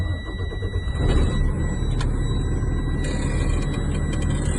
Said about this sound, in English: I'm going to safe start the truck.